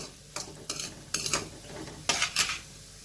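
Onion and peas sautéed in a pan, with a handful of distinct scraping stirs of a metal spoon over a light sizzle, close and fairly quiet, no talking.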